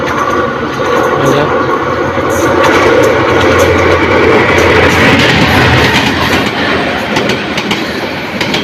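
The Titas Commuter train from Dhaka, bound for Brahmanbaria, rushes through Daulatkandi railway station with a loud, continuous rumble and rattling wheel clatter that swells midway and holds steady close by.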